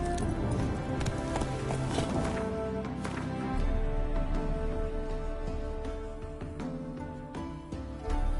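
A horse gallops hard with rapid, uneven hoofbeats under a busy, dramatic background mix, loud and close throughout, the pounding rhythm shifting and thickening midway.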